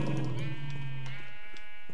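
Sheep bleating in the Minecraft Kingdoms Evolved modpack: a single drawn-out, wavering bleat lasting about a second and a half, fairly close and moderately loud, then a quieter tail.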